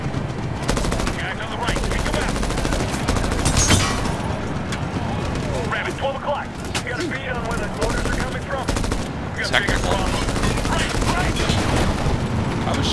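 Dense automatic gunfire from the video game Medal of Honor (2010), loud sustained bursts of rifle and machine-gun fire with occasional booms, continuing throughout with voices talking underneath.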